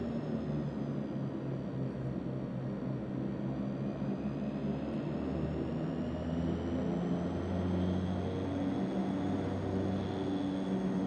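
A bush plane engine in the Prepar3d flight simulator game, a steady, continuous droning hum with a faint high whine, heard alone without talk.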